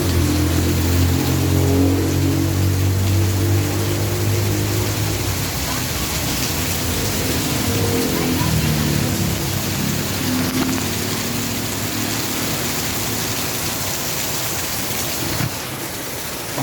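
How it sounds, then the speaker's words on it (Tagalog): Heavy rain pours continuously, a thick roaring hiss that stays loud for the whole stretch, with a low rumble beneath. "Lakas ng ulan,"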